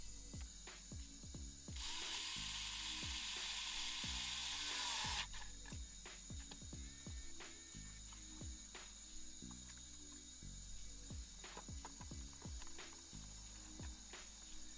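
A T15 Torx driver ratchets in quick, rhythmic clicking runs while a vehicle armrest is reinstalled, close up, with a brief hissing burst early on and no speech.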